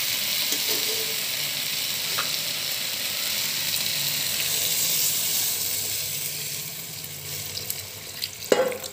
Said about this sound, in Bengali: এবার গরম জল অ্যাড করে দিচ্ছি।